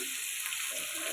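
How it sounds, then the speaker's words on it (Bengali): Pieces of katla fish frying in hot oil, giving a steady, close, crackling sizzle that holds evenly throughout with no talking. "মাছগুলো সুন্দর করে লাল লাল করে ভেজে নিব।"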